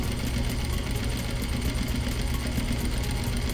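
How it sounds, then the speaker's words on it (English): Sewing machine stitching a fabric seam along the throat-plate guide, a steady, fast, continuous mechanical whir with rapid needle clatter running throughout at close range, no voices. "Align your fabric with the guide on the throat plate and just start stitching."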